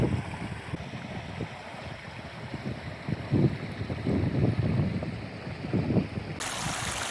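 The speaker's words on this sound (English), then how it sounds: "This really is a classic Dartmoor brook, with water cascading between massive granite boulders," A Dartmoor brook tumbling and cascading between massive granite boulders, a steady rushing, splashing flow heard close with some wind buffeting the microphone, no voices.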